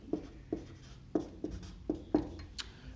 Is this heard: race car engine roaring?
no